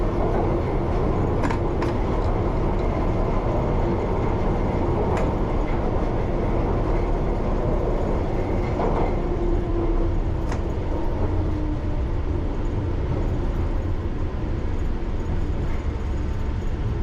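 London Underground Piccadilly line train running near its terminus: a continuous, loud low rumble from on board, with occasional sharp clicks and rail squeaks over the steady roar.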